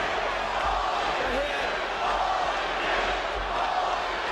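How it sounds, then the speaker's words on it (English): Arena crowd at the Holyfield vs Moorer heavyweight boxing rematch roaring steadily to urge Holyfield on, a dense continuous wash of shouting and cheering with a commentator talking over it. "The crowd trying to urge Holyfield on."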